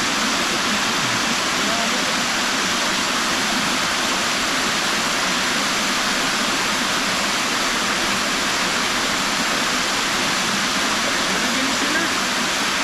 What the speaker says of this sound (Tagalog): May maririnig po ninyo, sobrang lakas ang agos dito sa taas eh